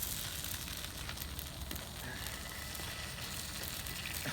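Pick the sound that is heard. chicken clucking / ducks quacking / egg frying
egg frying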